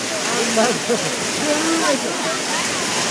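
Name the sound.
splashing water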